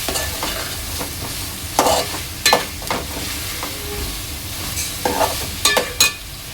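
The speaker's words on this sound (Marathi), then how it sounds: "आता ह्या भाज्या इथे चांगल्या मसाल्यामध्ये मिक्स करून घ्यायचे आहे।" Repeated stirring and scraping of a spoon through vegetables in thick masala in a pan for prawn curry, with soft sizzling underneath and several sharper clanks against the pan.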